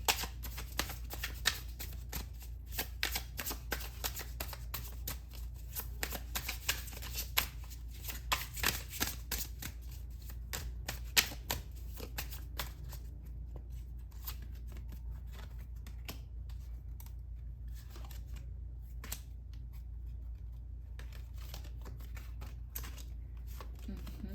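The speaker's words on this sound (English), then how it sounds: "Now let's pull out more cards here." Tarot cards are shuffled by hand in rapid riffling, flicking bursts close to the microphone, dense at first and then thinning into sporadic card taps, over a low steady hum.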